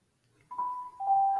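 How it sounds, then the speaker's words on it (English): A school bell sounds in a classroom at the end of class, two sustained electronic tones in succession, moderately loud, with no talking during it. "And there's the bell."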